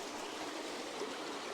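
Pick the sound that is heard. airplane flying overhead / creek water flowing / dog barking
creek water flowing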